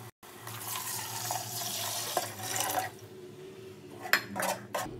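About six glasses of water are poured into a cooking pot of mutton mandi, a close gushing splash with a few clinks of the pot and glass near the end.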